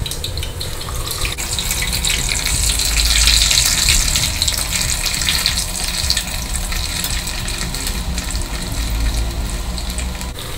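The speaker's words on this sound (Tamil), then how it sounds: "அதே மாதிரி பன்னீரும் அதே மாதிரியே பொரிச்சு எடுத்துக்கலாம்." Paneer fries in hot oil, a loud, steady, close sizzle with dense crackling that swells and eases without pause; no talking.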